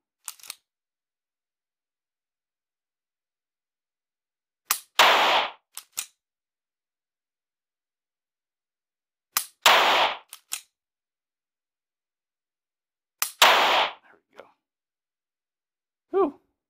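A Glock pistol is dry-fired and its slide racked during laser training, giving sharp, isolated mechanical clacks and rattles in about four separate clusters with silence between them.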